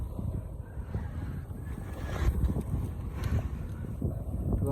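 Strong gusty wind buffets the microphone of a rider cycling a long road route, a low rumbling roar that swells and surges unevenly throughout.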